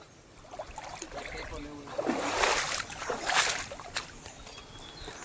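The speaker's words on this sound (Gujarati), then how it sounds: "અવાજ જો આવે પાણીનો, તમને બતાવે" Feet splash and slosh in deep natural water in hill country, with uneven surges of moving water close by and a voice now and then.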